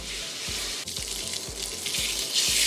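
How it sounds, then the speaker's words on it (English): Water poured from a container into a pot of chickpea curry, a steady splashing trickle with faint rhythmic thumps underneath, close and fairly loud with no voices. "we're going to add water"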